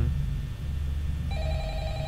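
In the Five Nights at Freddy's video game, a telephone starts ringing partway through, a clear electronic ring tone that rises over a low, steady background hum.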